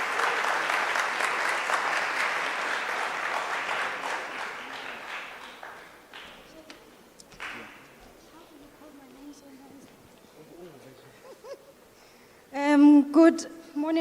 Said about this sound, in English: So can we please give a round of applause to Uwe Celishe?